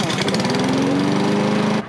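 A lawn mower engine running on windshield washer fluid: a loud, close, steady buzzing drone that holds for nearly two seconds and then cuts off abruptly.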